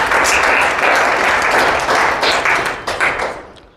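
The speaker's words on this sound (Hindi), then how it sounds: "तो एक जोरदार ताली बजाइए" An audience at a business-plan event applauds loudly, dense sustained clapping that fills the room and then thins and fades toward the end.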